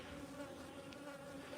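Honey bees buzzing inside an opened hive during a midwinter inspection, a steady close drone with a faint hum layered on top, with no talking.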